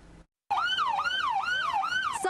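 A California Highway Patrol cruiser siren wails during a high-speed pursuit through a residential neighborhood, starting after a short silence and cycling in loud, steady up-and-down sweeps.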